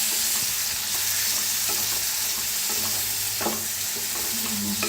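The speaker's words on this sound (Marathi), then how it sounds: "आता दही टाकले, मिक्स करून घेऊया।" A spoon stirs curd into green chillies frying in a pan, with soft scraping and a steady sizzle close up and no voices.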